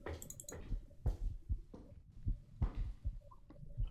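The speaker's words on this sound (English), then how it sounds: "There's a heartbeat, but it doesn't sound like it's coming from me." A slow, steady heartbeat thuds through a dark basement scene in a horror video game, each doubled beat low and muffled, repeating evenly with faint clicks and a soft hum underneath.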